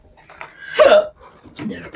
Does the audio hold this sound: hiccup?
yes